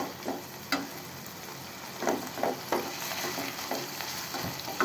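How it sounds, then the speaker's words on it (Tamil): Paneer frying in a pan makes a soft, continuous sizzle, broken by occasional clacks and scrapes of a utensil turning the pieces, close up and fairly quiet with no speech. "பன்னீரை வறுத்து எடுத்துக்கலாம்."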